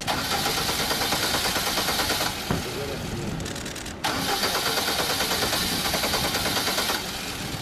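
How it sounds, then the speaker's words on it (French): A new Lada car's starter cranks repeatedly in rapid rhythmic bursts with brief pauses between attempts, loud and close, and the engine never catches; voices talk over the cranking. "il tourne la clé, elle démarre pas"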